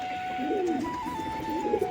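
Soft, low pigeon cooing repeats in gentle rolling phrases, close by, with a steady faint hum in the background.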